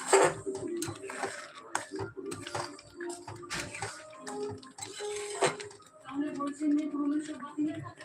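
A spoon stirs an oat mixture with sugar in a pan, giving irregular scraping and clinking taps and faint wet sounds, close up, while someone talks throughout.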